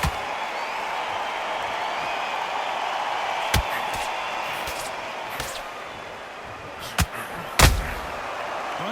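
Punches landing in the Undisputed boxing game: a few sharp, loud thuds spaced across a steady roar of crowd noise, with two close hits near the end.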